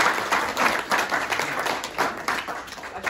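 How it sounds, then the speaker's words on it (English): Audience applause after a speaker's introduction at a retreat presentation, steady dense clapping from many hands throughout, fairly close and even in level. "A round of applause."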